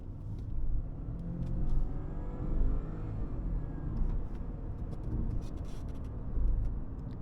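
A BMW F10 520i LCI with a turbocharged petrol engine accelerates on the road, heard from inside as a steady low engine rumble and whir that swells in repeated waves as it pulls through gears.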